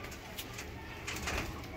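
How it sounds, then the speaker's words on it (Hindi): Soft pigeon cooing in a noisy outdoor setting, low murmuring calls over a steady background hum. "वो हमारा कबूतर"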